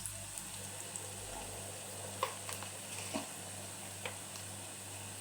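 Onion and garlic fry quietly in a pan, giving a steady faint sizzle with a few soft ticks and stirring clicks, no talking.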